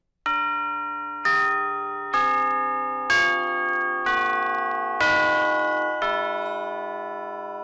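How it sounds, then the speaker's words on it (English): Orchestral chimes, steel tubes struck with a mallet, ring out in seven separate strokes, each a bright metallic tone that sustains and overlaps the next, heard clearly with no other sound. "So here are the chimes."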